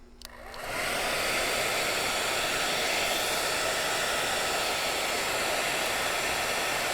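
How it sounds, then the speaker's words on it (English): Hair dryer blowing a steady stream of air that levitates a ping pong ball, clicking on and then holding an even, broadband whoosh, close and continuous, with no voices. "Watch what happens when I turn the hair dryer on and I put the ping pong ball over the flow of air coming out of that."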